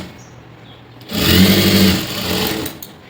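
A sewing machine stitches a blouse in one loud, steady motorised run of about a second, starting abruptly after a quiet lead-in and easing slightly before stopping.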